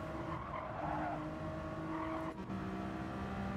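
Race car in Gran Turismo 7 on a Brazil track, pulling out of the pits: a steady engine drone with tire skid and squeal, loud and continuous, no talking.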